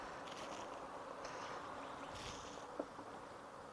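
Bees buzz faintly around their nest, a thin continuous drone with brief swells as individual insects pass nearer, quiet and without talk.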